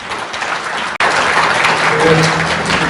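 Applause from an audience at the launch ceremony of a farming and food policy forum, a dense, steady roar of many hands clapping that breaks off for a moment and then resumes at full strength.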